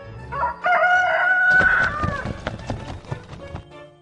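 In an animated children's story, a rooster crows loudly as it flies up to the top of a tree. Flapping and scuffling follow, with clip-clop-like knocks.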